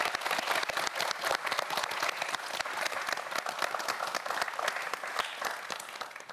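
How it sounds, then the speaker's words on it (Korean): A quiz-show studio audience applauds four students, with crisp, dense clapping that holds steady and loud for over six seconds without talk. "네 학생 모두에게 다시 한번 큰 박수 부탁드립니다"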